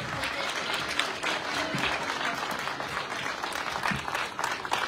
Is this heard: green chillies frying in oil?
no